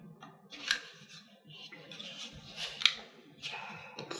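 A small plastic Raspberry Pi 4 case is pried open by hand, giving close clicks, creaks and scraping snaps at irregular intervals, with one sharper click near the end and no talk.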